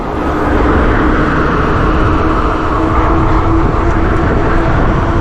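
An Eilleo Spacewalk M7 electric bike climbs a hill on throttle alone, its motor hum buried under loud, steady broadband wind and road rumble that stays constant throughout, with no talking.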